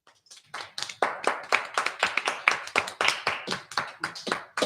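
A few people clap in a radio studio, distinct close hand claps in a quick uneven rhythm, starting sparse and building into steady clapping.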